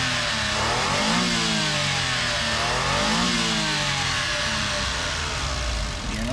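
A Nissan NV100 Clipper Rio engine revs repeatedly, the pitch rising and falling in several close, loud vroom sweeps over a steady mechanical hum, with no voices.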